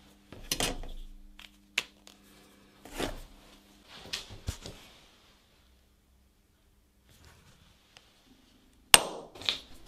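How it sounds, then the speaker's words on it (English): Center punch struck with a hammer on aluminum-magnesium alloy plate in a home workshop, giving a handful of sharp separate metallic taps with pauses between and one louder strike near the end. "Some measurements and a little bit of work with the center punch, and we can start the machining."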